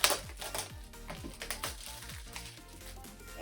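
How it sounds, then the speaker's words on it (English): Plastic film is peeled and pulled off a plush-toy mystery box, giving a close run of crinkling, crackling rustles with small sharp snaps, steady throughout and moderately quiet. "Just gotta peel off this."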